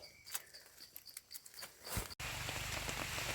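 Steady rain patters on a surface, starting as scattered drops and then thickening into a dense, continuous downpour nearby.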